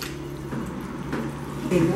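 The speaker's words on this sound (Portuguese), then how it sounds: "Ficou grosso, vai jogando, adicionando água aos poucos." Thick, creamy savory filling for empadinhas, esfirras and pastéis being stirred as water is added bit by bit, giving a steady wet squishing and sloshing with a louder surge near the end, under a speaking voice.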